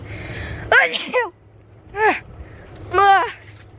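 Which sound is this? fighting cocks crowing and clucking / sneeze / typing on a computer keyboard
sneeze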